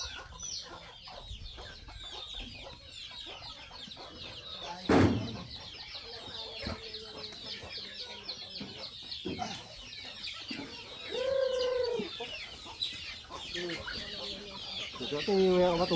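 Chickens cluck and squawk nearby over a busy background, with a sharp thump early on and a louder drawn-out squawk near the middle.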